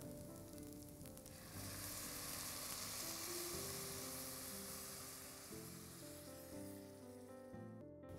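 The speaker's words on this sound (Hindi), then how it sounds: "चावल को बिल्कुल थोड़ा सा सौते कर लेते हैं या भून लेते हैं" Rice sautéing in a pan for orange pulao, a bright continuous sizzle over faint background music, close and steady, cutting off abruptly at the end.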